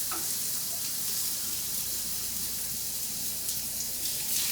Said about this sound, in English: You can hear that oil nice and sizzling.